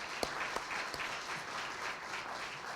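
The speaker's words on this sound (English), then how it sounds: "That deserves a round of applause" An audience at a State of the Schools address gives a round of applause, a soft steady wash of many hands clapping with a few sharper claps near the start.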